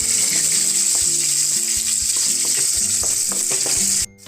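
Curry leaves and kanthari chillies fry in hot oil with a loud, close, steady crackle and hiss that stops abruptly near the end, with no voices.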